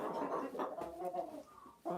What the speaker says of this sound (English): That noise she just made is part of the egg song.